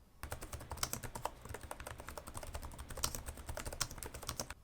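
Continuous rapid typing on the keyboard of a Lenovo Legion 5i Pro laptop with an Intel i7-11800H, a dense stream of close, crisp key clicks with no talk over it.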